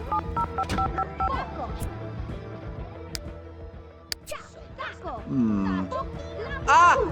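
Telephone dialing tones from The Sims game: a quick run of short electronic beeps as a character calls work, with game music and Simlish voices around it.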